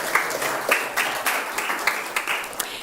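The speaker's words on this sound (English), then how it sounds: "I know you want to clap" Scattered applause from a church service audience, with steady rippling claps and a few sharper hand strikes rising above the patter, no talking.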